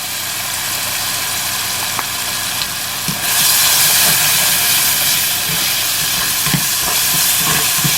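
Masala with ginger powder frying in a pan, a loud continuous sizzling hiss that swells partway through, with a few soft clicks of stirring and no voices.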